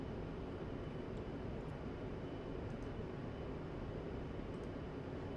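A-10C Warthog jet engines in the DCS World flight simulator, a steady broadband roar droning evenly throughout, heard without any talk.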